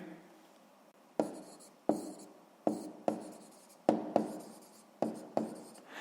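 Pen writing on paper while working a sixth-grade maths exercise: a series of short, crisp scratching strokes, about ten in irregular rhythm, close and fairly quiet against a soft room background.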